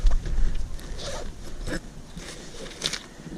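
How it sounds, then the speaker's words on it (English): Suitcase zipper dragged open and shut in short rasping strokes, close and moderately loud, with brief scratchy bursts and handling rustle between them. "Zippers are perfect."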